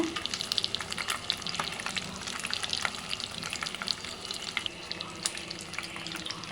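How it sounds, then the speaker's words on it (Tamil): Jalebi fish fried with curry leaves in hot oil, a steady close sizzle with crackling pops and occasional stirring, no voices. "மீன் வந்து கருவேப்பிலை போட்டு நல்லா பொறிச்சு எடுத்துருக்கோம்"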